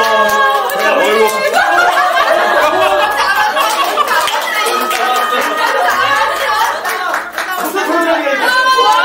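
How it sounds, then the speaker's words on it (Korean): Guests applaud at a baby's first-birthday party in a hotel banquet hall, the clapping steady and crowded throughout, mixed with laughter, chuckles and children's voices nearby. "하객님들의 큰 박수가 필요합니다."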